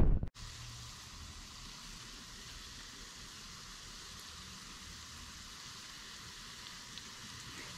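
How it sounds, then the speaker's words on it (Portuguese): Oil frying gluten-free snacks over low heat gives a steady, soft crackling sizzle, faint and continuous after a brief knock at the start. "vamos esperar o óleo esquentar e depois fritura"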